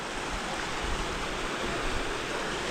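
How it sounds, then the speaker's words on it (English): A mountain waterfall in Southern California roars steadily as dense, even rushing water, loud and continuous with no breaks. "The waterfall goes up there."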